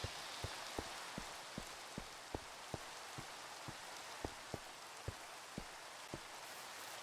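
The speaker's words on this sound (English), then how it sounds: "Yep, still rains over here." Steady rain falls in a blocky sandbox game world, a continuous hiss broken by soft, regular drip-like taps roughly every half second.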